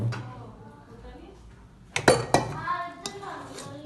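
A metal rice cooker pot being opened, with a few sharp clinks and clatters of metal near the middle, over low background noise and a brief voice.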